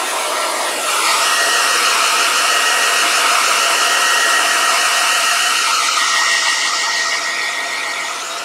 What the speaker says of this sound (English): you guys are going to have to hear this hair dryer